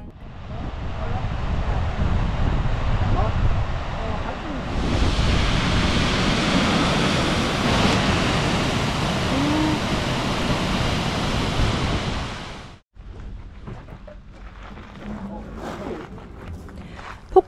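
A waterfall in Iceland: steady, broad roaring rush of falling water dominates for a long stretch, then cuts to quieter outdoor ambience with faint sounds.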